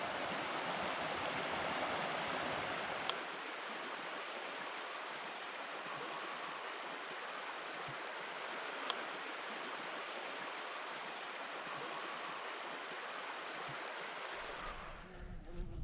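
A river flows beside a walking path in a Scottish glen, a steady, close, full rushing of water that continues unbroken, with no voices, until a brief shift at the very end.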